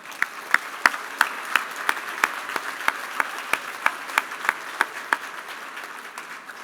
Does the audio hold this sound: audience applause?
yes